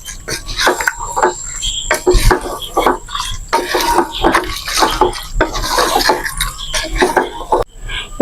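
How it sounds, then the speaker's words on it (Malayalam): A spoon stirs chicken madhooth and rice in a metal pot, making repeated scraping and clattering strokes in an uneven rhythm, close and fairly loud throughout. "ഇനി ഇത് നല്ലതുപോലെ ഒന്ന് യോജിപ്പിച്ചെടുക്കാം"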